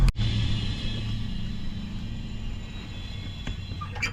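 A 1954 Chevy Cabover truck with a shifting fault runs with a steady, low engine rumble at moderate distance after a sharp click at the start, with a faint knock near the end.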